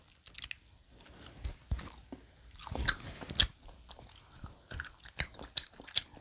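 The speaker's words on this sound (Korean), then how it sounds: "향이 엄청 많이 들어간 젤리네요." Convenience store jelly candy is chewed up close, with wet, squishy bites and irregular soft crunches that come in bursts and then fall quiet. Nobody speaks.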